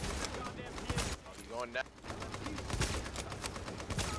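Sniper rifle fire in a hard-difficulty shooter game set at Grand Central Station, sharp gunshots cracking through a noisy battle with other gunfire around, while someone talks over it.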